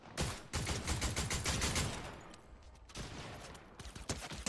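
Rapid bursts of gunfire in a video game, loud repeated shots and volleys close up, fading briefly before more shots crackle again.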